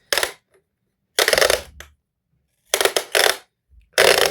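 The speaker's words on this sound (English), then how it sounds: "It's going to come out of the sticker machine." A fragrance sticker vending machine dispensing a sticker, with several loud close mechanical whirring and grinding bursts separated by pauses, no talking.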